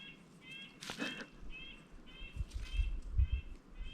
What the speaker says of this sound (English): Do you hear all the different birds?